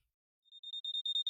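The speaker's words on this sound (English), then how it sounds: "next day I woke up to my alarm at 5" An alarm clock ringing in a visual novel game, a clear, high electronic beeping in quick pulses that grow louder and steadier, with no voices.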